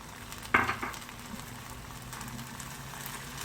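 Vegetables tumble into a hot pan with sauces and spices, a sharp hiss burst at first contact settling into a soft, steady sizzle while they are stirred.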